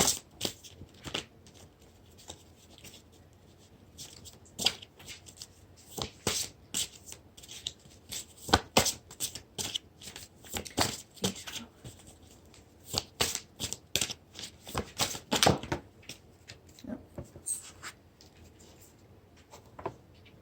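Close-up card shuffling, a long run of crisp riffling and flicking bursts with brief pauses between, no voices.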